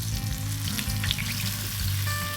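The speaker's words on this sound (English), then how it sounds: "The slow frying takes the fat out" Steady crackling sizzle of duck breast slow-frying in its own fat in a pan, close and continuous, with no one speaking.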